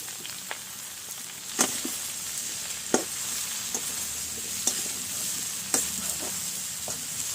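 Elephant foot yam stems frying in a pan with fried onion, garlic and chillies, a steady close sizzle broken by several sharp scrapes and knocks of a spatula stirring, with no talk.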